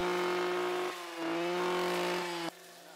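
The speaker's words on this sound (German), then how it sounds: "Zunächst wird die Oberseite des Walls gemäht." A motorised mower cuts the top of an earth hedgerow bank in Schleswig-Holstein, its engine drone steady and close with strong harmonics, dipping briefly near one second and dropping in load toward the end.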